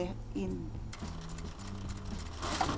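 A sewing machine stitches a rolling hem, a close, rapid mechanical whir with ticking needle strokes, preceded by low hum and a voice speaking briefly at the start.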